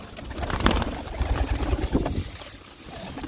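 Pet pigeons coo softly near their keeper, a few low burbling calls over steady rustling and shuffling noise, fairly close, with no speech.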